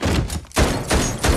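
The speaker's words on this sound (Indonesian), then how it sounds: "Tembakan itu membuat Michael dan beberapa agen lain tewas diserang oleh yang pastinya itu adalah sniper." Several loud sniper gunshots ring out in quick succession, heavy booming reports close by.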